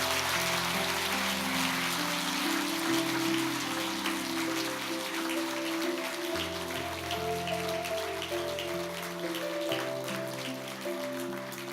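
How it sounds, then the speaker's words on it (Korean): A congregation claps warmly during a church anniversary and retirement service, a crackling wash of hands that runs steadily over sustained organ chords. "우리 뜨거운 박수 부탁드리겠습니다"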